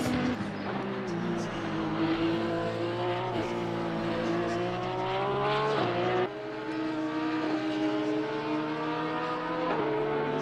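A Porsche GT3 race car in Assetto Corsa Competizione at Suzuka, its engine note climbing steadily through the gears with brief drops at each shift, loud and continuous.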